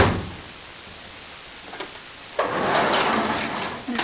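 A household drawer in a homeschool room slides open with a short scraping rumble partway through, followed by a steady low sliding noise close to the microphone, with no talking.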